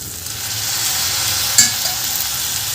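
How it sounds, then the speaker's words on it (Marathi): Pigeon peas go into rice that is being fried in a pan for a Maharashtrian sole bhat. Steady hissing sizzle runs throughout, with a soft stir and a brief clatter as the peas drop in near the middle. No one speaks. "इथे मी हे धुतलेले तुरीचे दाणे घालत आहे."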